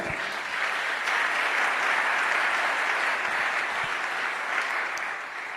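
A church congregation applauds in praise at a sermon, with dense, steady clapping from many hands that fills the room evenly for several seconds before easing slightly at the end.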